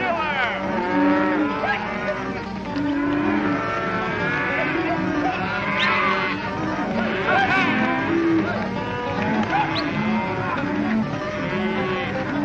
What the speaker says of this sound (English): He's gonna bring those cattle down that steep cliff.